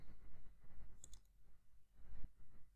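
A computer mouse clicks on the Windows 11 Start menu and Settings: two faint, sharp, isolated clicks a little over a second apart against quiet background noise.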